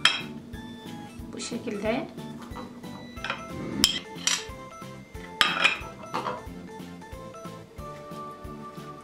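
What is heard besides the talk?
spooning ice cream into a hollowed-out melon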